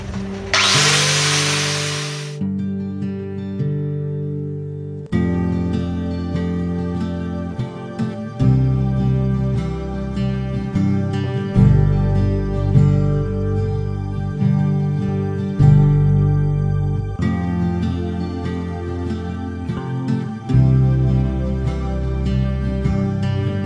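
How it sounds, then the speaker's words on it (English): A power tool fitted with a sanding disc works over a carved surface, giving a loud, continuous droning whine whose pitch shifts from moment to moment as the load changes, with a harsh rush at the very start. "I've changed over my blade now to a sanding disc, which I'm then going to refine this surface a little bit more."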